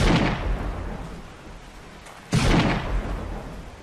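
Two loud sniper rifle shots fire in the survival video game 7 Days to Die, each a heavy booming crack with a long rumbling tail, spaced about two seconds apart.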